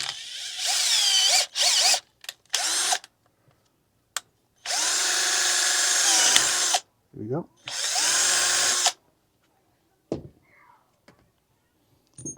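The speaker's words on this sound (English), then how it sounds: "All right, so I got my drill. I'm going to go ahead and put that probably right here." A power drill whirs loudly in several bursts drilling a hole on a Traxxas Sledge RC car, revving up and stopping repeatedly, with brief clicks between runs and a short spoken remark.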